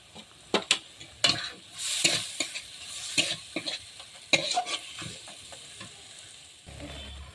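Ground chili and coriander spices sizzle in a hot pan while a spoon stirs them in bursts of scraping and clattering strokes, close and fairly quiet, with a low hum at the end.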